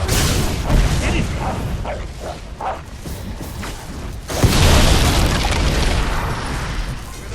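Explosion in the Fable III video game as a mortar is destroyed during a battle, a loud broadband blast bursting in midway through ongoing battle noise and bangs, then rumbling on.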